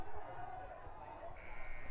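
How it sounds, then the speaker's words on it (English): A buzzer ends the third quarter of a girls' high school basketball semifinal in the PIAA 2A playoffs. It sounds as a steady electronic tone that enters partway through, under a busy gym crowd and voices. "shot's going to be after the buzzer"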